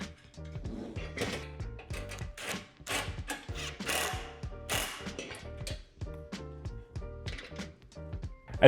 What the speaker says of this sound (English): secure the nut on each side